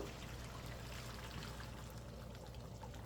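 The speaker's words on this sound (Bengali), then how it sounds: "যে আমি এখন এখানে পানি দিয়ে দিব," Water pours steadily into a pan of broiler chicken being cooked into a spiced bhuna curry, a continuous close splashing trickle with no talking.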